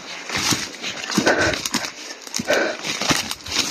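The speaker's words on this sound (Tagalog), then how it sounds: "may boses ng aso mga tol. Tumatahol." A dog barks close by in a string of sharp, uneven yelps and whimpering calls, loud and fairly continuous throughout.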